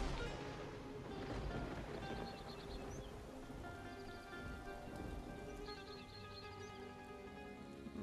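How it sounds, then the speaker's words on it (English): Steady rain in the video game Divinity: Original Sin 2 patters and hisses continuously at a soft, even level, with no voices over it. "More rain?"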